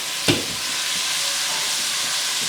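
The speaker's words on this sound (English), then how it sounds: "We've got the ground beef cooking fairly high." Ground beef sizzles steadily in a hot pan over fairly high heat, a constant bright hiss of frying with one sharp clatter near the start, close and continuous with no talking.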